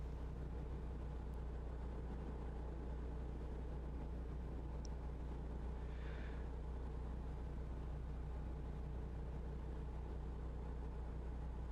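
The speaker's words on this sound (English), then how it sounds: "the truck sounds like we're going faster than we are" A truck engine in a trucking simulator, held at about 1250 RPM, drones in a steady low hum with no change in pitch, and nothing else is heard.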